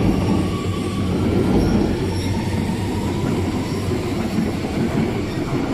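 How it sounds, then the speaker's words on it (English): A train rumbles out of a station beside the Amsterdam football stadium, with steady rolling wheel noise, faint wheel squeal and light clickety-clack, continuous and fairly close, with no talking. "that's the train I should have got"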